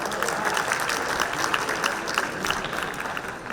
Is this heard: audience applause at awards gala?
yes